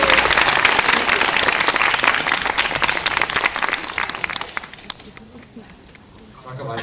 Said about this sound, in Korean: 제임스 완 감독님께 큰 박수 부탁드려요